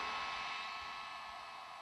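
A heat gun blows continuously in a brief, steady airy hiss with a faint motor hum, during DIY work on homemade dead plugs.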